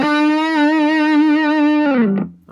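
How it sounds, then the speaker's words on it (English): An electric guitar played through a Boss MD-2 Mega Distortion pedal, with one loud sustained heavily distorted note holding steady with slight wobble for about two seconds before bending down and cutting off. "so even on 0, this is a very distorted tone"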